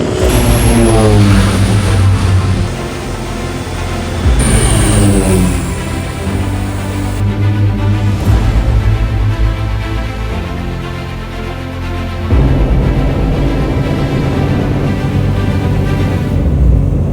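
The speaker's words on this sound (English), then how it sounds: "Welcome to Lukla, the world's most dangerous airport." Aircraft engine roaring at Lukla airport in Nepal, a loud steady propeller drone with shifting pitch sweeps, close and continuous throughout.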